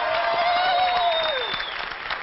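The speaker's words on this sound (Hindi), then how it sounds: "जोरदार तालियां" Loud applause from a studio audience on a Pakistani TV news talk programme, a dense steady wash of clapping under a clear sweeping tone that glides downward, lasting about two seconds with no speech.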